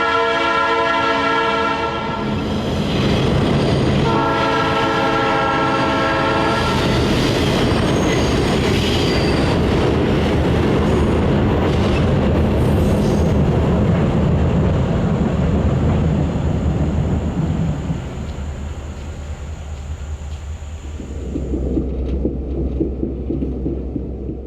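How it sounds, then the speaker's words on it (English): A CSX coal train rumbles across the Dry Fort Creek Trestle in eastern Kentucky, with loud steady wheel and car noise, horn blasts early on and squealing wheels, fading to a lower rumble near the end. "we captured the train at the Dry Fort Creek Trestle"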